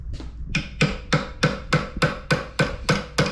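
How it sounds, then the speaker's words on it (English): A hammer strikes a forklift's hydraulic tilt ram in a steady series of about eleven evenly spaced, fairly loud metallic taps at close range, with no talking. "it's actually called a hammer"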